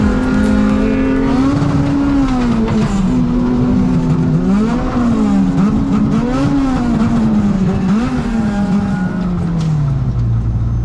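Race cars lap Lime Rock Park in a loud, continuous close engine drone, the pitch rising and falling with repeated shifts and revving throughout.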